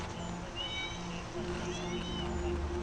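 Several faint, thin kitten mews come from deep inside a buried pipe, echoing and distant under a steady background rumble, with soft noise from a camera and gear lowered into the hole.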